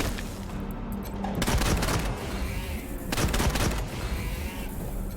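Two bursts of rapid gunfire ring out in the Wasteland 3 video game as the character Scotchmo shoots, each a dense rattling volley over a steady background bed of game ambience.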